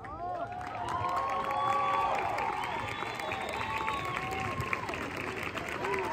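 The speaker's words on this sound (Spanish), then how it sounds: "Por favor, fuertes los aplausos." A crowd applauds and cheers after a drum and bugle corps field show in Guatemala, with sustained clapping under shouts, whistles and excited voices, fairly loud and continuous throughout.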